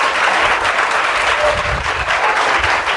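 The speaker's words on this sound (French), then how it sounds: "je veux que vous applaudissiez très fort." A large church congregation applauds loudly and steadily, a dense wash of clapping that carries on for the whole stretch.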